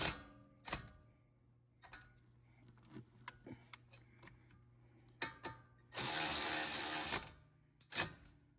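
Ratchet clicking in short bursts as T45 Torx bolts are run up on the front end of a 2018 Ford Escape, close and fairly quiet, with one loud stretch of rapid mechanical whirring near the end.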